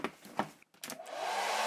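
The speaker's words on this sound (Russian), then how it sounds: "Сориентировал сначала фен ровно" A hair dryer switches on and blows steadily into an aircraft airspeed sensor's pitot tube, a broad rushing whoosh that builds after a few brief knocks and holds at a constant level.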